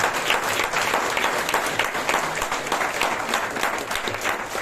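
An audience at a panel discussion on the workplace gender gap claps steadily, a dense wash of applause that keeps going without a break.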